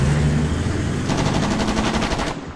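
Machine gun fire in Shellshock 2, a loud, close burst of rapid shots at an even rhythm lasting about a second, over a dense noisy war background.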